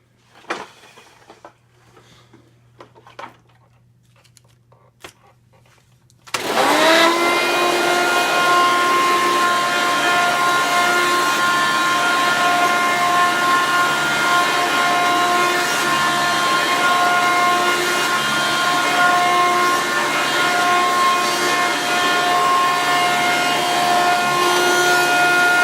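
A Hoover Runabout toy vacuum cleaner is handled with a few faint clicks, then switches on about six seconds in and runs on alone with a steady, loud, whining motor hum to the end.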